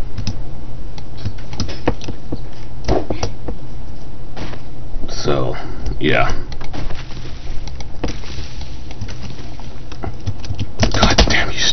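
Computer keyboard typing in a home room, irregular key clicks and clatter running throughout at close range, with a brief spoken remark partway through and a louder burst of keystrokes near the end.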